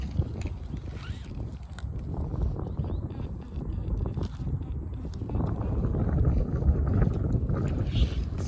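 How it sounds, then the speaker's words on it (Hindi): Wind blows steadily outdoors in the mountains of Uttarakhand, a low, rumbling rush buffeting the microphone that builds slightly toward the end, with no clear talk. "क्या मस्त हवा चल रही है"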